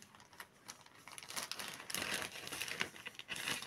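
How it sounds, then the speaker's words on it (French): Small plastic bags crinkle and rustle as scissors are slipped inside them, a close run of soft crackles and crisp rustling bursts that continue steadily through the whole stretch with no voices. "Je les mets dans des petits sacs Shane."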